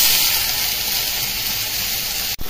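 Water spinach (kalmi shak) hits a hot wok set on a clay stove, giving a loud, close, steady hiss and sizzle, with a brief knock near the end.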